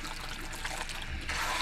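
Running water trickles and splashes as it is rinsed back and forth through hair during a spa hair wash, steady and close throughout with no talk.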